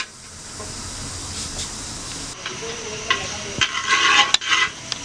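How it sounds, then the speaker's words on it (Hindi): Mash dal sautéing in a pan on a stove at medium flame, a steady hissing sizzle with spoon stirring and scraping that grows busier toward the end, close and fairly loud. "एक मिनट के लिए इसे सौते कर लेंगे, और जो हमारा चूल्हा है वो मीडियम फ्लेम पे है।"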